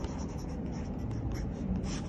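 A pencil scratches across the paper of a Leuchtturm1917 weatherproof journal, a close, soft, continuous scraping of strokes with small pauses, quiet and with no talking.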